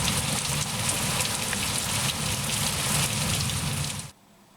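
Rain pours down outdoors over a deep-mulched garden, a dense, loud, steady patter and hiss that stops abruptly near the end, leaving quiet.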